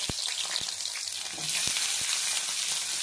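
Raw pumpkin sizzles and fries in hot oil, a steady crackling hiss with a few sharp pops and stirring clicks, close and continuous.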